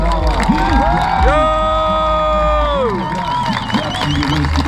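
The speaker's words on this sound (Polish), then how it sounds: "wielkie brawa" At an outdoor stunt show with cars driving on two wheels, a crowd cheers and whoops loudly with scattered clapping, while a long tonal whistle or horn rises above the din.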